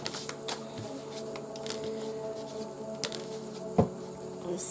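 Shaman's Dream oracle cards being shuffled, a soft, close riffling patter with scattered light clicks and taps, faint and steady with no voices.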